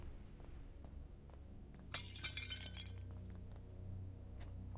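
Glass shatters in the horror game Paranormal Territory 2, a sudden bright crash that rings out for about a second against a low, steady background hum with faint clicks.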